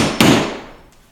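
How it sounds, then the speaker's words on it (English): A hammer strikes a nail punch, driving a brad nail into wainscot paneling: one sharp, close metallic tap that rings out and decays, followed by a much fainter second tick. "I'm going to take my hammer and a nail punch to drive that nail into the actual panel."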